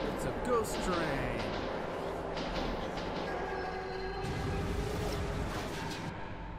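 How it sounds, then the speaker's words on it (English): A ghost train in the underground tunnels of Metro 2033 Redux rumbles past with a steady rolling roar and some metallic squealing, fairly faint and under voices talking. "It's a ghost train."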